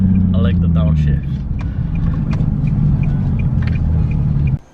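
A Nissan 370Z with a Tomei Expreme Ti titanium exhaust rumbles loudly through downshifts, its deep engine note rising and falling before cutting off abruptly, with brief voices over it.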